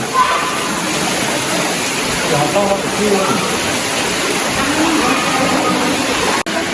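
A mountain waterfall and stream at Ban Sing Tham in Chiang Kham, Phayao, rushing in a loud, steady wash of white noise that continues unbroken throughout and sounds close by.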